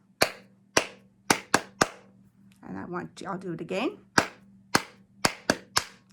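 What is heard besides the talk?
hand clapping a rhythm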